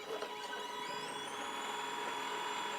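CNC pickup winder spinning a guitar pickup coil at 1,200 RPM, giving a steady high-pitched mechanical whine with a faint rising tone, quiet and continuous, with no voices.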